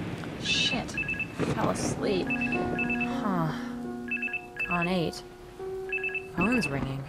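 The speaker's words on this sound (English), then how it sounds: "phone's ringing." In the horror adventure game The Charnel House Trilogy, a telephone rings in repeated short electronic trills, loud and near, interleaved with swooping musical and voice sounds.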